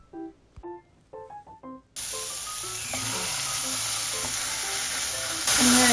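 Pork meat grilling in a pan, a dense close sizzle that starts suddenly after a few light clicks and taps and keeps hissing steadily, growing slightly louder near the end.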